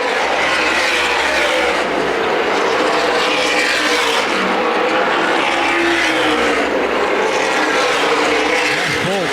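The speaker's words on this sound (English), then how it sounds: "Chase Elliott losing several car lengths now on Mason Mingus because Mingus went low, then high" Stock cars race at the Winchester 400 in a CRA Super Series event, a loud continuous roar of engines rising and falling as cars pass close by, with a commentator talking over it.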